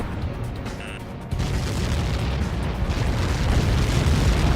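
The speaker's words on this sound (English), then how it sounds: "How many got caught in that explosion?" A missile explosion in the combat flight game Ace Combat 7 gives a loud, heavy boom that swells into a sustained, rumbling roar, building steadily with no talk over it.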